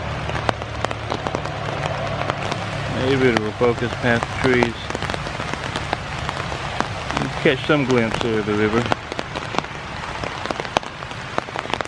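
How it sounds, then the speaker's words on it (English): Rain patters steadily on leaves and the ground in the woods of the Ohio River Bluffs Nature Preserve, a dense close hiss of drops running throughout while someone speaks over it. "how much it's really raining and how much the woods actually provide shelter from the rain"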